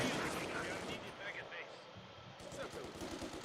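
Mortar and gunfire in a Company of Heroes-style strategy battle game, a dense crackle of rapid shots and rumbling blasts, mid-distance and fairly loud, with a voice talking over it.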